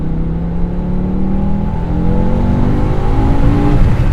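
A manual BMW M5 E60 with its V10 engine set to M mode revs hard while driving, a loud continuous engine roar with rising tones as the revs climb steadily across the whole stretch, close up and without talking.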